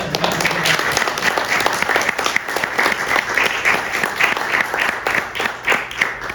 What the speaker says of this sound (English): let's start with a big round of applause for the Voyager Reed Quintet